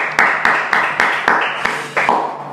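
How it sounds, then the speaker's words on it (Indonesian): Applause for Kang Nurdin, a doll-making entrepreneur from Cikampek, on a studio talk show: a string of sharp, close claps at a steady rhythm of about two per second, each ringing briefly, with no talking. "Tepuk tangan buat Kang Nurdin"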